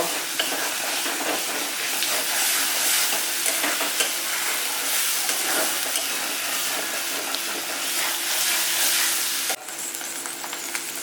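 Boiled snail meat fries in a pan with a dense, loud, continuous sizzle and occasional stirring, and the sound drops abruptly near the end.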